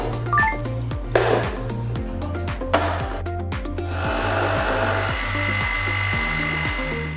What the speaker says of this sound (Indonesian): kocok dengan mixer sampai dia pucat